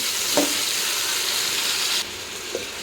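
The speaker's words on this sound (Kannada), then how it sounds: "ಟೊಮೊಟೊ ಸ್ವಲ್ಪ ಸಾಫ್ಟಾಗಿ ಬೇಯಬೇಕು, ಅಲ್ಲಿ ತನಕನೂ ಫ್ರೈ ಮಾಡಿ" Vegetables and tomato frying in a pan for vegetable pulao, a steady close sizzle with a couple of soft stirring clinks, no voices.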